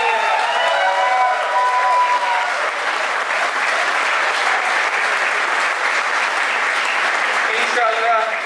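Large crowd clapping at a 5G Group annual dinner, broad continuous applause held at a steady level throughout, with a voice over a loudspeaker faintly audible at the start and end.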